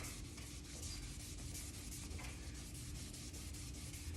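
A guitar neck is rubbed by hand to give it a satin finish, a faint, continuous scratchy friction with quick back-and-forth strokes and no talk.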